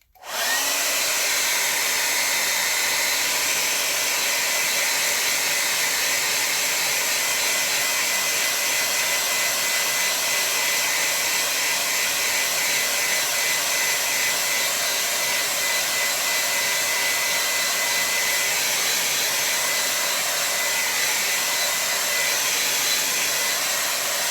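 A hair dryer blows steadily on a watercolor painting for over twenty seconds, a loud, constant close-up whoosh starting abruptly and never changing pitch, with no voices over it.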